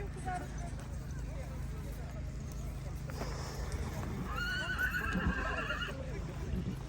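A mare neighs loudly at an outdoor horse competition in a Ukrainian village, a clear rising and falling whinny midway through, over steady crowd murmur and nearby talking.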